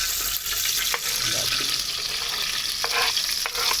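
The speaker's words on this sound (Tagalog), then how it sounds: "So, igisa na muna natin yung sibuyas." Onions sautéing in cooking oil in a frying pan, a steady close sizzle running throughout with brief clinks of stirring.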